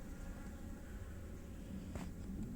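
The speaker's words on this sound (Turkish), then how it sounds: "Arılar kümeleniyorlar." Honeybees clustered at their hive on a late-January winter day make a soft, continuous buzzing hum, faint and steady throughout the short stretch.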